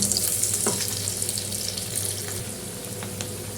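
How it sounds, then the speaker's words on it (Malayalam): Masala-coated ivy gourd sizzles in hot oil, a steady crackling fry that holds throughout with faint spattering and no voices. "മസാല വരട്ടി വെച്ച കോവക്ക നമുക്ക് കുറേശ്ശെ ഇങ്ങനെ എടുത്തിട്ട് ഈ എണ്ണയിലേക്ക് ഇട്ട് കൊടുക്കാം."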